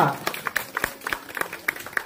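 A crowd applauds a prize winner of a rangoli contest at a Vinayaka Chavithi village festival in Kalinepalli, a brief burst of scattered, fairly close claps with a voice speaking over them.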